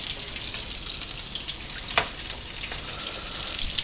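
New York steak frying in a frying pan while camping in Alaska, a steady, close hiss and sizzle throughout with one brief louder crackle near the middle.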